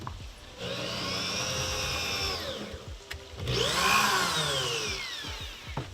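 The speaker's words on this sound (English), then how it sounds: "Two more holes left to go, just pre-drilling the screw holes." A power drill pre-drilling screw holes in a boat floor whirs in two sustained runs, pitch sweeping as the motor spins up and slows, close by with no talking.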